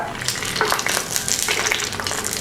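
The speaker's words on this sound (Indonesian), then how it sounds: "ini kita gorengnya asal mateng aja" Banana fritter batter crisps frying in hot oil, a steady bubbling sizzle with crackling bursts throughout, close and fairly loud, with no voices.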